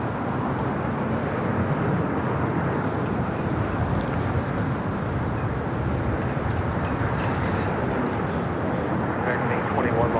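A China Airlines Cargo Boeing 777 freighter heading for the runways at LAX gives a steady, loud, broadband jet roar that holds unbroken throughout, with wind buffeting the microphone.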